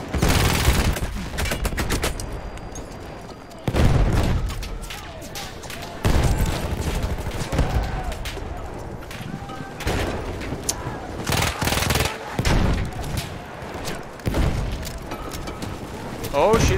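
Villar Perosa machine gun in Battlefield 1 fires in repeated bursts, loud and close, with rapid rattling volleys separated by short pauses and distant battle noise between them, a player's voice occasionally audible.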